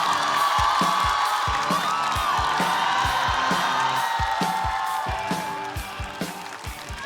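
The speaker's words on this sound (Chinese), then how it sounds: "掌声有请辛博" A studio audience cheers, whoops and applauds as a stand-up comedian is called to the stage at a comedy competition show, a loud continuous crowd roar with clapping that eases slightly toward the end.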